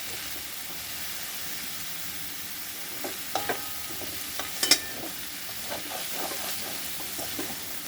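Radish greens being mixed in a pan with a tablespoon of oil, a soft steady sizzle with scattered spatula scrapes and clinks in the second half, close and fairly quiet.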